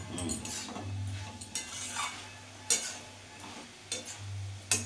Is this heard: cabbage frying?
yes